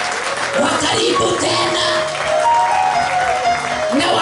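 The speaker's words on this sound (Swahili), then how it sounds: "Nisaidie tuwapigie makofi" A church congregation claps in applause during a worship service, a steady broadband patter lasting throughout, with a voice speaking over it.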